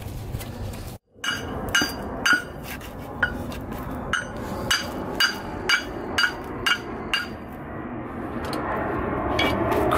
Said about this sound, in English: crusty parts requires hammer.